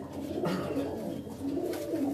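A Tali breeder pigeon coos in low, rolling, repeated calls close by, a steady throaty murmur with no talking over it.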